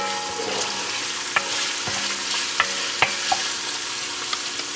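Garlic fries in oil in a pan before andouille sausage goes in for fried cabbage, with a constant loud sizzle and a few sharp utensil taps and scrapes.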